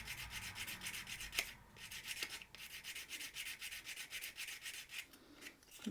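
A shrink plastic keychain edge being filed by hand: soft, steady rasping strokes repeating in a quick even rhythm, very faint and close, with no voices.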